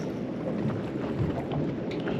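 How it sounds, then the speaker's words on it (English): Steady wind blows across the microphone while someone is fishing by the water, a constant low rumbling gust with no talking. "The wind has kicked up."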